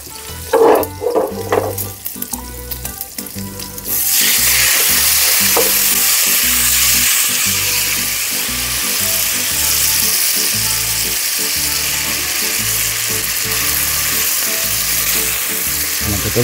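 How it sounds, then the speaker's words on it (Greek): Pasta tipped into a pan of sizzling guanciale for carbonara, with a few clinks and knocks, then a loud, steady frying sizzle as it is stirred and tossed. "Βάζουμε μέσα τα ζυμαρικά."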